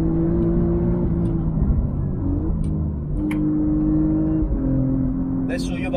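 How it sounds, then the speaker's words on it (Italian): An Alfa Romeo Giulia GTAm's turbocharged engine while driving, heard from inside as a steady loud drone whose pitch climbs and resets between gear shifts. "Mamma mia che motore ragazzi."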